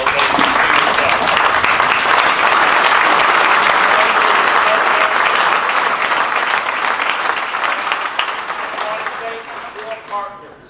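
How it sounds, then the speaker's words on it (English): A large audience at the ZDAYZ 2019 event gives a standing ovation, with loud, sustained, dense clapping and some crowd noise that slowly tapers off at the end. "You need to take a standing ovation to yourself"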